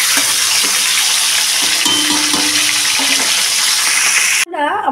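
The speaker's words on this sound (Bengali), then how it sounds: "মাছের মাথাটাকে আমি ভালো করে ভেজে নেব।" A catla fish head rubbed with salt and turmeric fries in hot oil with a bright, continuous sizzle and a few soft knocks, close up, before the sound cuts off abruptly near the end.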